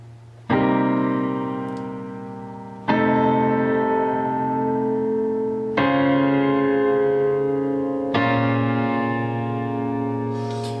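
Four sustained piano chords, each struck once and left to ring out for a couple of seconds before the next, played slowly with no talking.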